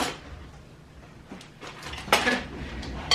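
A spoon mixes flour and sugar in a bowl, with close scraping and a few sharp clinks of utensil against the dish, irregular and fairly quiet.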